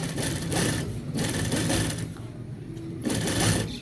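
A sewing machine stitches a shirt collar in steady close bursts, three runs of rapid mechanical whirring broken by short pauses.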